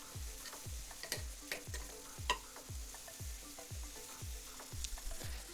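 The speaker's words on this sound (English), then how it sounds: "I'm going to give that a good mix around." Spoon stirring a paprika, onion and celery mix frying in a pan, steady soft sizzling under a regular rhythm of scraping strokes, close and fairly quiet.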